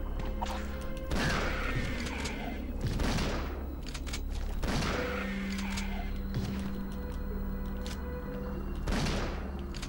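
Guns fire in Resident Evil 3, with several loud, widely spaced blasts each trailing off in a booming crash, over a steady hum of game ambience.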